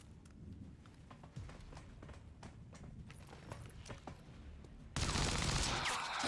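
Gunfire in the video game XCOM 2 rattles in quick bursts over steady game noise, followed by a louder, denser blast of sound near the end.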